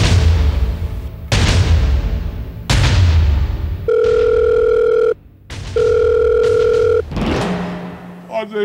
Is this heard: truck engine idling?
no